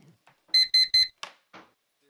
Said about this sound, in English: 3 a.m. That's my timer.